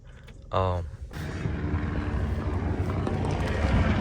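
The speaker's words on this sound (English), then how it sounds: "We got the planes flying up there, the helicopters, and then the airplane right there." Aircraft rumble overhead, planes and helicopters passing outdoors in fair weather, a broad low drone that swells and holds steady after a short voiced sound near the start.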